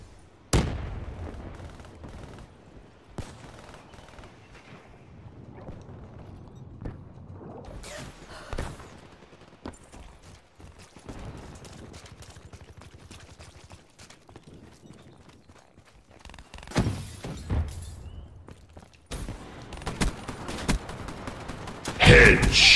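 Gunfire in Call of Duty: Black Ops 3, with bursts of shots scattered through the stretch and a dense, loud barrage of rapid fire near the end over low game ambience.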